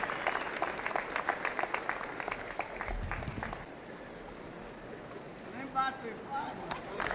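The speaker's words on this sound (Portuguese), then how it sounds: "pedir uma salva de palmas por essas palavras tão encorajadoras" Audience applause at a 60th birthday celebration, a crowd clapping in a rhythmic patter that fades into murmuring room noise, with voices talking toward the end.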